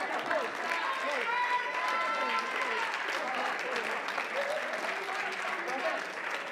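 A large crowd at a Vampire Savior fighting game tournament applauds and cheers steadily throughout, a dense wash of clapping with no break.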